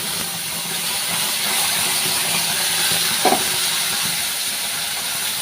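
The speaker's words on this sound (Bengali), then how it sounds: "মশলাটাকে আমি একটু ভালো করে ভেজে নেব।" Spice paste for egg curry fries in a pan with fried onions, giving a steady loud sizzle and hiss throughout with a brief stir or scrape near the end.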